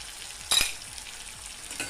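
Garlic paste with tomato and green chilli paste fries in oil for a fish curry. A steady close sizzle is broken by one sharp scraping stir, followed by softer stirring.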